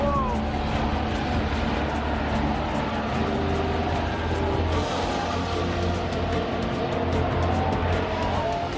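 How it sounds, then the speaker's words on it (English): Formula 1 cars on the Las Vegas street circuit, a constant loud engine roar with rising and falling whines as cars pass, mixed with crowd noise and talk throughout. "Man, these cars are loud and fast."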